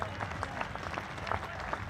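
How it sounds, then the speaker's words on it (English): Warm crowd applause drifts around a cricket ground during a Vitality Blast T20 match between Middlesex and Gloucestershire, a steady, fairly distant patter of many hands with no talk over it. "very warm applause from around the ground here for Seb Morgan"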